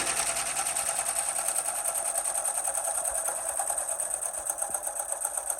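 An embroidery machine stitches the underlay for satin-stitch lettering on fabric carrots, producing a fast, steady, even mechanical whirr and clatter that runs close and uninterrupted throughout.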